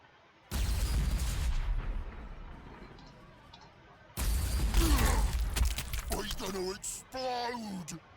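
Artillery fire in the strategy game Warhammer 40,000: Sanctus Reach: two heavy bursts of booming shots, loud and rumbling, separated by a quieter gap, with a voice speaking over the later part.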